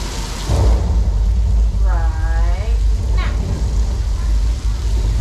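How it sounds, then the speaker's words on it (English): Steady heavy rain pours during a Universal Studios Hollywood studio tour tram ride effect, a loud continuous wash with a brief low rumble and a distant voice partway through. "And look at that, it's raining."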